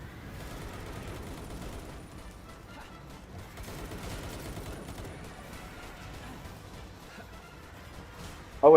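Steady gunfire from a creature-capture survival game on a fresh multiplayer server, a dense continuous volley of shots at moderate level that ends in a sharp louder burst.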